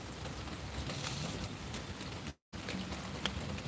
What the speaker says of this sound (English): It's raining, raining, raining.